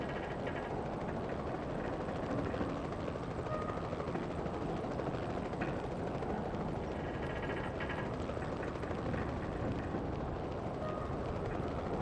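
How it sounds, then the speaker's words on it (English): Loud, continuous rotor and engine roar of a helicopter in the video game X2: Wolverine's Revenge, a dense steady wash of noise that never lets up. "Can you come land your fucking chopper over here"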